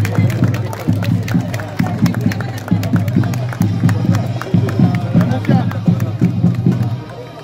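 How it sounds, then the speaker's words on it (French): An audience at a 2023 event in Woippy claps and cheers for the LionSong group from Sarrebourg, a dense, rhythmic burst of applause filling the hall while a crowd murmurs underneath. "Le LionSong de Sarrebourg, on les applaudit très fort"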